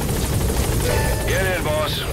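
The support helicopter in Metal Gear Solid V arrives at a landing zone, its rotor roar loud and constant beneath game sound effects and a voice.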